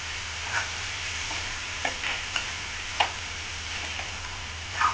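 Spring onion and moong dal cook in a pan over a low flame, a soft, steady sizzle broken by several scattered clinks and scrapes as the mixture is stirred.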